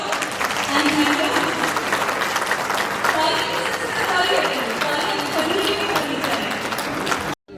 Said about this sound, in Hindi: और अब हम सम्मानित करना चाहते हैं डॉक्टर अरुण कुमार जी को आपकी ढेर सारी तालियों के साथ